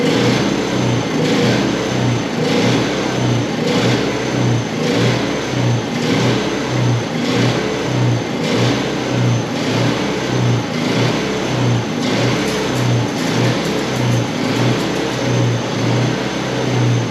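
A Toro generator with a Suzuki engine runs loud and close, its steady drone pulsing in a quick regular rhythm throughout, with no voices.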